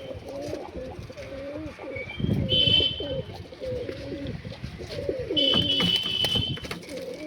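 Malwai pigeons from Punjab coo repeatedly in a loft, their low rolling calls close by, with a few thin chirps and a hum underneath.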